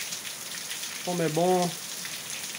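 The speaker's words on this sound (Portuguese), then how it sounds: "Mostrando a chuva linda" Rain falling outside a home in Assaré, Ceará, a steady soft hiss of drops that continues throughout, while someone speaks briefly over it in the middle.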